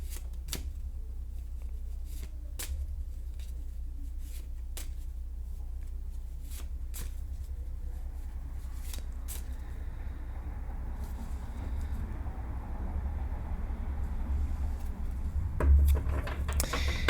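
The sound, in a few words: tarot cards being shuffled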